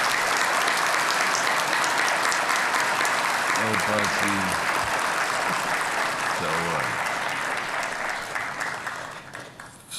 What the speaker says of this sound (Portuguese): Também eu peço uma salva de palmas